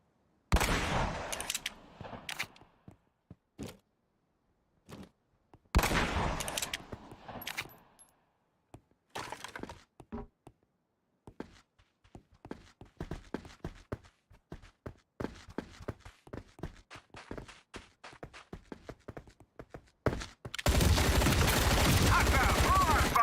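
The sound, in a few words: small arms gunfire in the video game Hell Let Loose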